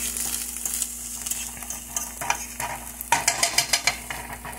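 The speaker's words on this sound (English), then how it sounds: "with these purple onions and garlic. You can cook it to whatever brown you would prefer." Purple onions and garlic fry in a pan for tomato sauce, with a steady low sizzle and scraping stirs that grow sharper and more rhythmic toward the end, close and moderately loud.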